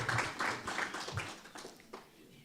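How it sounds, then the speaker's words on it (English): A conference audience applauding a speaker: a burst of many hands clapping, dense and roomy at first, then thinning and fading out within a couple of seconds. "give him a round of applause"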